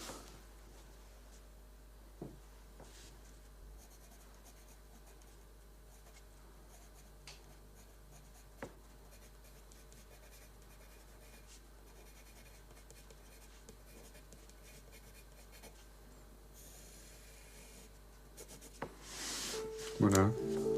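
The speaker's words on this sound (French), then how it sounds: "Alors maintenant, je vais écrire le texte." Pen or pencil writing lettering onto a hand-drawn comic strip page, a soft continuous scratching with faint rubbing, quiet and close, with a few small knocks and some handling noise near the end.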